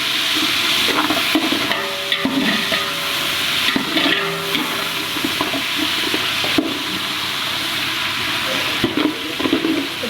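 Loud, continuous hissing and bubbling as water is poured into a hot pan of browned onions, with steady sizzling and occasional clinks of a spoon stirring throughout.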